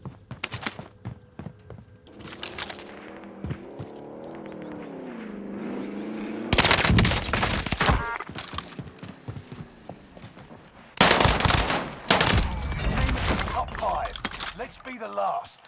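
Gunfire in Call of Duty Warzone bursts loud and sharp in two heavy stretches, separated by quieter gameplay and a voice talking.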